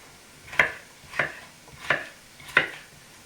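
Four evenly spaced knife chops cut potatoes on a cutting board, each a crisp close knock with a short ring, in a slow steady rhythm.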